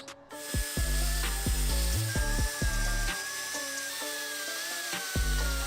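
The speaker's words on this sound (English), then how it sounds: "So I'm gonna come in with the Dremel and we're gonna kind of do one of these" A Dremel rotary tool shapes a Nissan 300ZX body panel with a continuous high-pitched whine that rises and dips as it bites, alongside scattered clicks, close and steady throughout.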